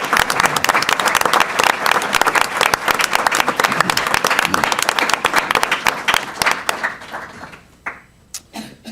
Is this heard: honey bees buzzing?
no